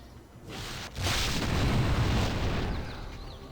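A potion of explosions in Baldur's Gate detonates with a heavy, rumbling boom that swells and lingers for a few seconds, loud and alone.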